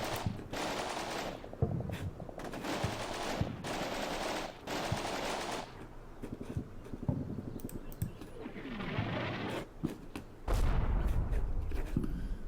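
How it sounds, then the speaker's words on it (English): Sniper shots and small arms fire crackle in the Combat Mission Shock Force 2 video game during an insurgent anti-tank ambush, with sharp single shots and rattling bursts, some near and loud and some farther off, and no talking. "I'm hoping the sniper fire and the small arms fire will keep them back for the rest of the fight"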